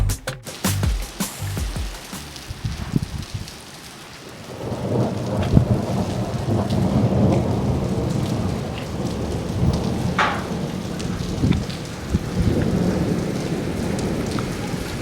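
Steady heavy rain pours down while thunder rumbles low and long, with a few sharper cracks, the storm swelling after a brief lull, in Tamnougalt, Morocco.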